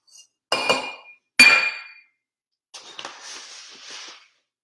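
Glass jars for homemade bath salts clink together as they are handled: two sharp, ringing knocks close by, then a softer rattling clatter that settles and stops, with no talking.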